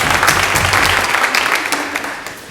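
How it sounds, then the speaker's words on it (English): Audience applause at a Burns Night program, a dense wash of clapping that stays loud and steady before slowly thinning and fading toward the end. "You can applaud now."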